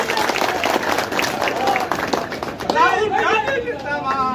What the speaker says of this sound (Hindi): जरा जोरदार ताली इस उपस्थिति के लिए आपकी बजनी चाहिए